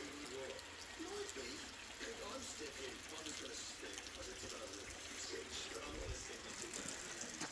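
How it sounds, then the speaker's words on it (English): Steady rain with water running off guttering at a building site in Bulgaria, a constant close hiss and splatter that holds throughout. "it is raining now."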